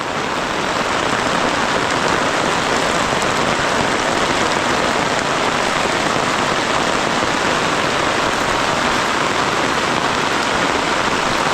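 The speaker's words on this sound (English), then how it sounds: "for about a 3-hour window in between downpours today, but so far it's been pretty steady." Heavy, steady rain drums on a tent during a torrential downpour at a campsite on abandoned coal mine land, a dense continuous hiss that holds loud and unbroken from start to finish with no voices.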